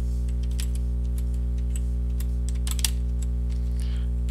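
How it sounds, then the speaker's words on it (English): Data being typed on a computer keyboard, a scattered string of light close key clicks over a loud constant electrical hum. "you then type in your data, and I'm going to enter in all the X data first"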